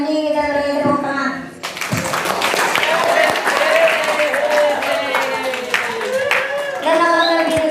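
Audience clapping breaks out at an Isya Ramadhan kultum gathering, a steady round of applause lasting several seconds while a voice carries on speaking over it.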